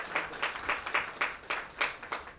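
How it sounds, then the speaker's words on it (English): An audience applauds guests invited onto the stage at the inaugural session of ICA Weekend 2025, a brief burst of scattered clapping that rises and falls in uneven waves. "I think they do deserve a round of applause."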